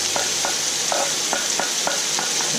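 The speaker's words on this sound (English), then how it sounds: "we'll just saute that for a minute or two" Onions, diced green capsicum and garlic sautéing in oil, a loud constant sizzle with regular soft stirring strokes about every half second, no talking.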